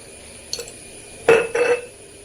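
Prawns are mixed with chilli powder, turmeric and salt in a bowl, a few brief scraping and clinking stirs against the dish in a quiet kitchen.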